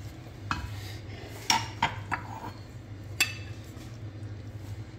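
Mutton kunna curry is ladled into a serving dish, with a few distinct metallic clinks and scrapes of a spoon against the pot over a low background hum.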